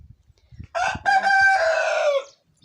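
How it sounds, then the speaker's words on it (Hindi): A single rooster crow rings out loud and close, one long drawn-out call lasting about a second and a half over quiet surroundings. "मुर्गे की बाँक है।"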